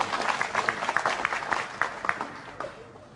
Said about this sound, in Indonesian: Tepuk tangan untuk Pak Muzamil, monggo Muzamil.